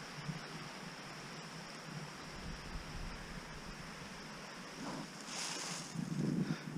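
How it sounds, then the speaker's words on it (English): Creek rapids in woodland, a steady broadband rush of flowing water running throughout at moderate level, with a few brief louder splashes and some wind buffeting near the end. "There's the creek and the rapids."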